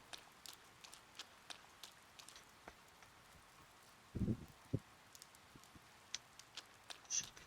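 Rain falling in Persona 4 Golden, a faint steady patter with scattered light drop taps and a couple of louder thuds partway through.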